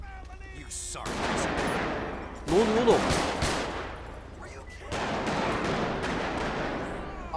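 Bursts of gunfire in GTA 5 during a police-mode hostage standoff in a neighborhood, sustained automatic fire with sharp volleys and pauses, loud and close, with a voice speaking briefly over it.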